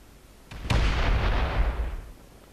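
Missile explosion breaching blocks in the Space Engineers game: a sharp crack then a heavy, loud boom that rumbles and slowly fades over about a second and a half.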